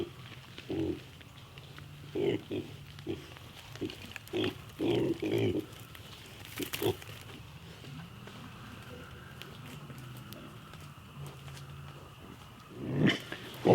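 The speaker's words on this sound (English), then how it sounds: "we are so happy to have all 6 of these pigs here on our homestead" Several Idaho Pasture Pigs on a homestead give short, scattered grunts and low oinks, mostly in bursts in the first half, fairly close, with a louder snort near the end and a low steady background hum.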